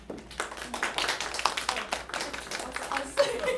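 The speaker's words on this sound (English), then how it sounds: "Applaud ourselves." Audience applause for a linguistics alumni panel at its close, a steady patter of many hands clapping for a few seconds with some talk mixed in.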